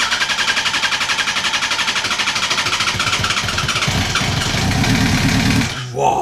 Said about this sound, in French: Sur la dernière vidéo, on a redémarré le moteur.